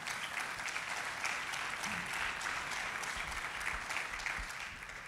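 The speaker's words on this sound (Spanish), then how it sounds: "Denle un aplauso al Señor." A church congregation applauds during a sermon, sustained dense clapping from many hands that fills the space, with faint voices mixed in and a slight fade at the end.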